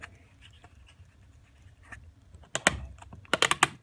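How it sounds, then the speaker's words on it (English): Sticky sellotape pressed down over folded cardboard roll, starting with faint soft rustles and then turning into sharp crackling tears and slaps of tape near the end, close by. "So we're going to take that cut that we've made, fold it right over,"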